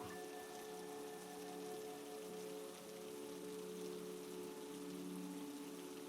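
Rain patters softly and steadily on a car roof, a faint continuous hiss with a low hum beneath it and no voices.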